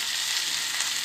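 Onion and tomato frying in a pan for paneer butter masala, a steady bright sizzle that holds even and continuous throughout, close and fairly loud with no talking.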